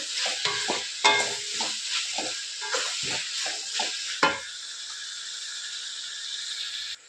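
Food being stirred and mixed in a hot pan gives repeated close scraping strokes over a continuous sizzle, roughly rhythmic for several seconds, then the strokes stop and only a steady frying hiss remains until the end.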